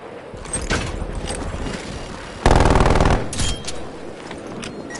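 Turret gunfire in a video game, a sudden loud rapid burst of automatic shots lasting about half a second, set amid quieter game noise and mechanical clicks.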